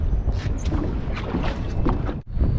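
A southerly wind gusts across Botany Bay near a small fishing boat, a loud steady roar buffeting the microphone with no pauses, briefly dropping out for a moment near the end.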